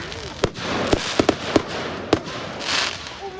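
Fireworks exploding at a night display, heard as six or so sharp, loud bangs at uneven intervals over a steady crowd-like rumble, followed by a softer hissing burst near the end.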